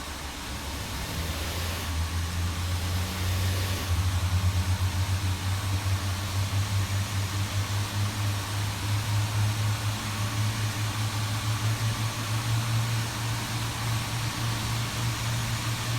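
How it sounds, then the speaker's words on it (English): Airbus A350 engine 1 spinning up at start after pushback, a low steady rumble and whine building gradually and holding over a constant broadband roar, no talking. "Engine 1 start."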